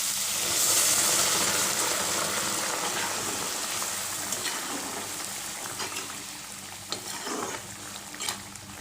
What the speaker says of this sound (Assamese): এতিয়া মই ইয়াত গৰম পানী দিছোঁ।